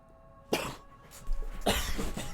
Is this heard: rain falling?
no